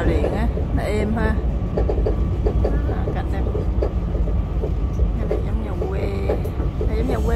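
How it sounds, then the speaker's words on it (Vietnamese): Electric tram rolling along through Paris, a steady broadband ride noise with faint rail clatter running throughout, heard under people talking. "Xe tàu điện á, nó êm ha."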